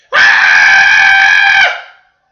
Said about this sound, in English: screaming at the top of his lungs